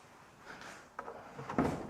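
A drawer in a built-in wardrobe of a renovated apartment is pulled open, giving a short wooden slide and thump near the end, preceded by a faint rattle.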